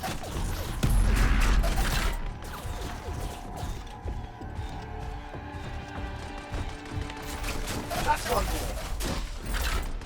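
A Colossus javelin's rail cannon fires on hard difficulty in the game Anthem, giving sharp mechanical bursts and a crash followed by metallic ringing and clattering, with occasional talk over the combat.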